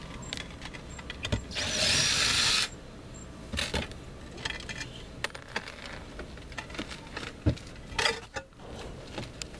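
A power tool whirs in one loud burst of about two seconds while removing screws from a tile roof during leak repair, followed by scattered clicks, taps and handling noises nearby.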